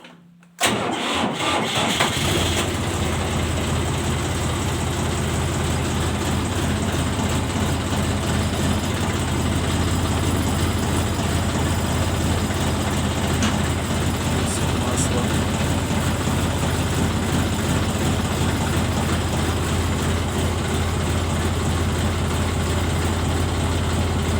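A Dongfeng 244 tractor engine makes a cold start: a brief crank catches almost at once and settles into a loud, steady, rumbling diesel idle close by for the rest of the clip.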